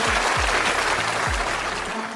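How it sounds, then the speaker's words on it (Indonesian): Audience applause at an MC-led event in Surabaya, a dense wash of clapping filling the whole short stretch, with low thumps and a brief tonal hum underneath. "Boleh beri tepuk tangan semuanya."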